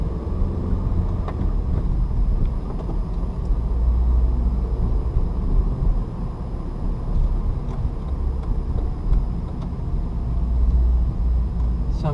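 A manual-transmission car pulls away as the clutch comes out, its engine hum rising steadily under low road rumble, heard from inside the cabin as a continuous, moderate drone without speech.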